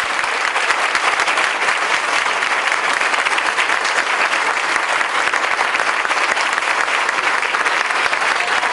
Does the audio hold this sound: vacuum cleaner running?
no